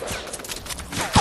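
An enemy shooting in a video game: a short rattle of distant automatic gunfire, fairly steady and moderately loud, closing with a heavier thump, with no voices.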